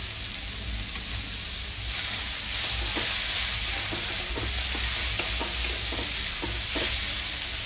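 Tomatoes with salt fry in a pan, giving a loud continuous sizzle and hiss up close, with soft repeated stirring scrapes running through it.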